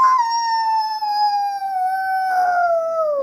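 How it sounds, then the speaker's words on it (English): A wolf gives one long, steady howl whose pitch slowly slides downward before tailing off, loud and alone. "Wolf sound? Ow."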